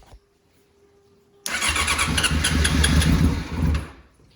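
A 2001 Yamaha R6 motorcycle engine, freshly rebuilt, is silent at first, then fires up abruptly and settles into a loud, steady, close-up running roar that drops away just before the end.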